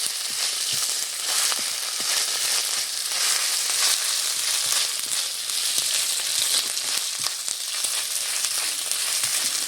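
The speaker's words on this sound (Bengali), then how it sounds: "আদা বাটাটা দিয়ে একটু ভালোভাবে নেড়ে নেব" Ginger paste stirred as it fries in a pan, making a steady, dense sizzle with constant small crackles and soft stirring scrapes close up throughout.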